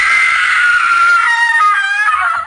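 A shrill, sustained scream from a character in the horror game Mermaid Swamp rings out loud and close, wavering slightly in pitch for a couple of seconds before cutting off.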